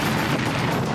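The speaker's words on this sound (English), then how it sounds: "The neighborhood is rattled by explosions on the ground and rockets in the air." Continuous dense roar of blasts and rocket bursts from a burning fireworks factory in Kolding, Denmark, loud and unbroken with no distinct pauses.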